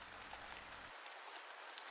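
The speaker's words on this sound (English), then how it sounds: "the sound of the rain" Gentle afternoon rain falling softly and steadily, a faint even patter on surfaces with no voices.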